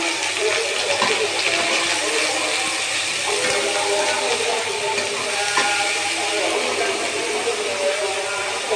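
Leafy greens dropped into a pan of onions frying brown, giving a steady broadband hiss and sputter of hot oil that holds loud and even throughout, with faint watery crackle on top.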